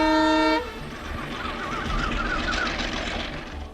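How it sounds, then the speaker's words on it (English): A locomotive in Sri Lanka sounds a loud, sustained horn blast, then the train rumbles along the railway as carriages roll past with steady clatter. "These locomotives still proudly travel across the country to continue to meet the transport"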